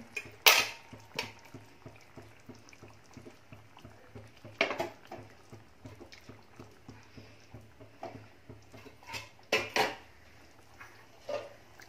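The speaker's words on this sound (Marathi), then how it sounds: "कांदे घालून घ्यायचे।" White onions tipped into boiling gravy in a pot for onion bharit bring sharp metallic clatters and clinks of a utensil against the pot, scattered over a quiet bubbling background.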